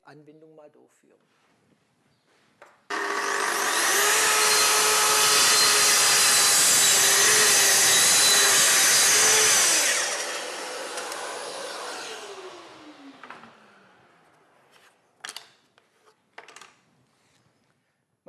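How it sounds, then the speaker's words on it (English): A Festool TS 55 R circular saw runs loud and steady for about seven seconds while cutting a groove in wood, then winds down with a falling whine, followed by scattered handling knocks. "You can see that this saw is very comfortable and easy to use, and I quickly create an even groove."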